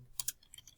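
Two quick keystrokes on a computer keyboard as a value is entered, soft and close, followed by a few fainter clicks.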